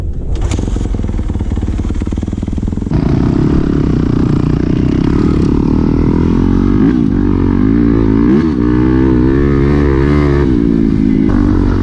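A dirt bike engine running after being choked: a loud, close, rough idle that swells into revving, with the pitch climbing and dipping several times over a steady mechanical rattle.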